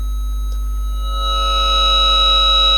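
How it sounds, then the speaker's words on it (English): A steady 1 kHz electronic tone with a buzzy edge, induced from a coil in an audio wire, swells in after a moment and holds, layered over a constant low hum. "the beep you hear is not coming from the microphone but from this coil"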